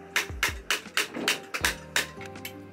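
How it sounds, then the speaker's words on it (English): Sharp, rhythmic hammer strikes drive a punching tool through cardboard design cards for Banarasi silk sari weaving, about eight quick taps close up in an irregular beat. "uses this tool and a hammer to pierce holes in them"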